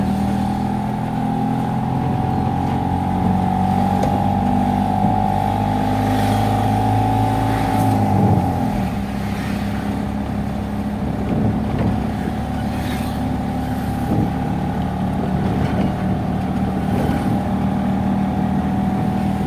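Mahindra Supro BS6 diesel van driving after DPF regeneration, steady engine drone with a throttle change around midway, then continuous road and engine noise throughout, close and fairly loud.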